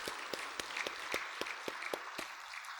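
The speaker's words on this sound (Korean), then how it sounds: "박수 한번 다시 하겠습니다." A church congregation claps during an afternoon praise worship service, a steady patter of many hands with a few sharper, closer claps standing out, moderately loud and unbroken.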